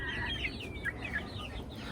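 Buff Brahma chickens clucking nearby, with a quick run of soft, repeated clucks that sit fairly faint over a low background rumble.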